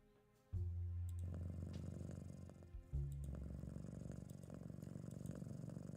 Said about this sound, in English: I don't know if you guys can hear the purring.